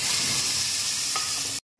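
Coriander leaf paste hits hot oil that has black cumin seeds in it and sizzles steadily, close and even, for under two seconds before cutting off abruptly.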